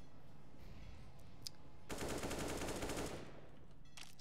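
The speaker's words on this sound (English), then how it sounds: "3 M4A4s and M4A1S round out there by Swan, doing some damage" Counter-Strike rifle fire from M4A4 and M4A1-S rifles crackles in a fast burst lasting about a second, preceded by a couple of isolated shots, all fairly faint in the game mix.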